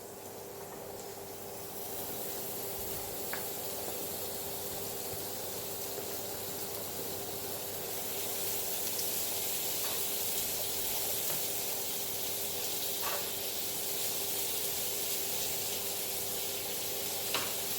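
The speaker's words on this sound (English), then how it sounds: "I have my bacon all chopped up, and this is just 4 strips of bacon. I'm going to put this in now so it has time to cook." Four chopped bacon strips fry in a pan with potatoes, giving a steady, even sizzle and hiss that carries on throughout, with a few faint utensil scrapes.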